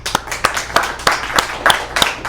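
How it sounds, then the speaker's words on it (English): Sparse, scattered clapping from a small audience at a Las Vegas tech meetup, individual claps standing out in an irregular rhythm rather than a full ovation, fairly close and modest in volume. "First, round of applause"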